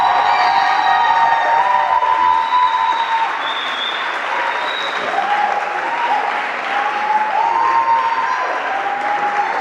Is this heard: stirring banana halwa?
no